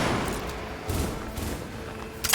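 A grenade goes off in the Cyberpunk 2077 video game, heard as a dull, rumbling low boom with muffled thuds and debris, followed by a sharper burst at the end.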